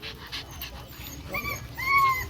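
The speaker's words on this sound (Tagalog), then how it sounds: "May aso sila." A dog gives a few short whines and yelps, close by, rising toward the end over faint background noise.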